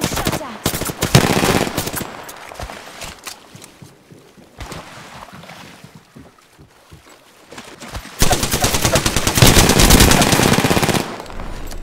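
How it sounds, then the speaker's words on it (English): Rapid gunfire aimed at the player in Apex Legends, dense bursts of automatic shots with a lull in the middle, then a long loud sustained barrage, close and intense. "I'm getting shot at."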